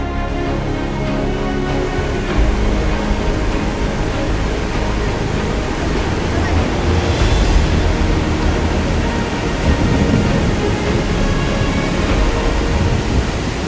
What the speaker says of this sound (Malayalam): ഭയങ്കര ബ്യൂട്ടിഫുൾ വെള്ളച്ചാട്ടാ